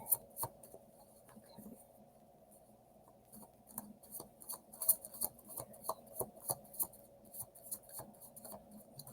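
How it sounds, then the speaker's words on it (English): Soft, rapid flicks and riffles of tarot cards being shuffled, quiet and close, growing busier and more rhythmic toward the end. "I'm going to shuffle it up and see what the tarot can tell us for you"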